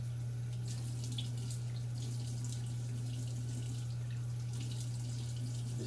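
Water runs steadily from a bathroom sink faucet during a face rinse after a straight-razor shave, a constant close hiss and splash with no talking.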